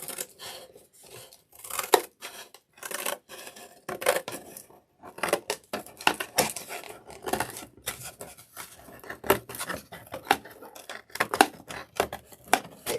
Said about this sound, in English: And cut the lid of the box right off.